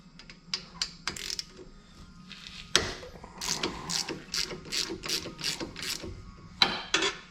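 Ratchet clicking while loosening 13mm caliper bolts on a 2007-2018 Jeep Wrangler JK during brake work, several quick bursts of close, sharp pawl clicks separated by short pauses.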